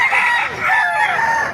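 Roosters crowing and chickens clucking among caged birds at a Baliuag tyangge market, a loud close crow drawn out over a second and a half with other fowl behind it.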